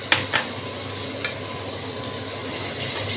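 Ground spice paste fries in oil with browned onion and garlic for a jackfruit and prawn curry, an even sizzle near the pan broken by a few short utensil clinks early on.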